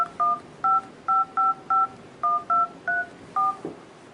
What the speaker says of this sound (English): You can dial something manually.